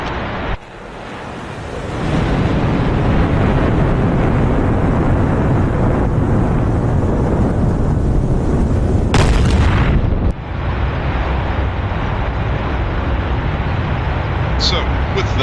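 TV-guided bombs dropped from an F-4E in DCS land with a sustained roaring, rumbling blast that lasts many seconds, breaks off abruptly, and then leaves a lower rumble. It is loud, broadband and close, with no talk over it.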